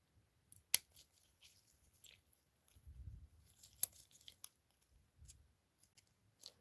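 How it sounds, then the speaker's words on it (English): Scissors cut through nail forms in a few crisp, isolated snips close by, with quiet rustling and handling noises between them. "get bigger scissors in here"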